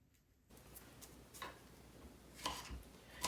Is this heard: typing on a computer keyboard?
no